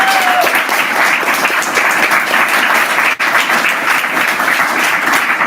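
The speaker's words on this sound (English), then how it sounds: "a huge round of applause" Loud, sustained applause from a large crowd at a book launch, steady clapping filling the room for several seconds with no break.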